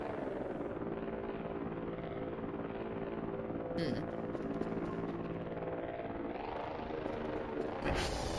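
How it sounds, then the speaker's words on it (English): A delivery drone in the game Voices of the Void drones loudly overhead, a steady rotor hum with tonal whine that swells and shifts toward the end. "Why is that drone so loud?"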